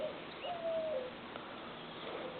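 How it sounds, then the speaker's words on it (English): A very young bird, about ten weeks old, gives a single soft, low coo near the start, faint against a steady outdoor hiss, followed by quiet background noise with no talking. "it's a very young bird"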